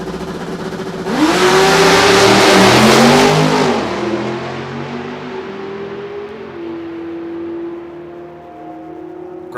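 A Hellcat race car on a track roars through a loud, rising rev burst, then settles into a sustained engine drone that fades gradually as it pulls away.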